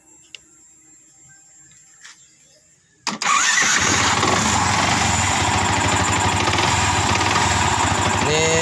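After a few seconds of quiet with faint clicks, a Yamaha R15 motorcycle engine cranks and catches, then settles into a steady, loud running idle.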